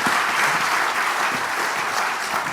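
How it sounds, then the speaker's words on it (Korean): Welcoming applause from the audience at a National Assembly policy forum as a Democratic Party lawmaker is invited to the podium, a steady dense clapping that fills the room without pause. "다시 한번 환영의 박수 부탁드리겠습니다."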